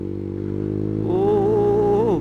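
A Honda CS1 motorcycle engine pulls under steady throttle, a continuous close-up drone that rises in pitch and strength partway through as the rider keeps the gas open.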